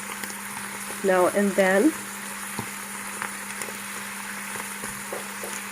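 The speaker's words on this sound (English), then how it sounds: "Don't forget to stir your mushrooms" Mushrooms frying in vegetable oil keep up a steady sizzle while being stirred, with a brief burst of talk near the start over the continuous crackle.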